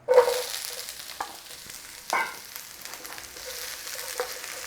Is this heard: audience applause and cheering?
no